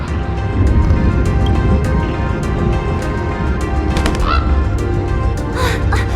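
A bird squawks and honks in a video game, set over dense game ambience and music with scattered short calls.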